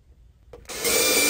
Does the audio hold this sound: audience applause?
no